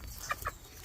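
Two soft clucks from a gamefowl hen, a quick pair of short calls, faint against a low background rumble.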